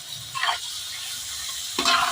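Chicken browning in a pan for a village-style dry chicken dish, with a steady soft sizzle broken by two scraping stirs, one early and one near the end.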